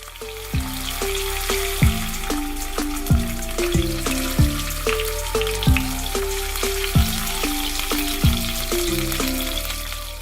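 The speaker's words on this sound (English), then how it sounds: "let me flip all the pieces and cook the other side for another 5" King fish pieces frying in oil in a pan over medium heat, a dense, steady sizzle with crackle throughout, heard close and loud beneath a rhythmic plucked music track, no talking.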